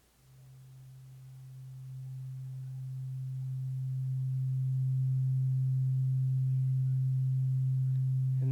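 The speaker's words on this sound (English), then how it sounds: "Slowly, I will fade in the sound of the DX7 and you will watch the amplitude" A Yamaha DX7 synthesizer plays a pure, steady low tone that swells gradually from quiet to full loudness and then holds, with no other sounds.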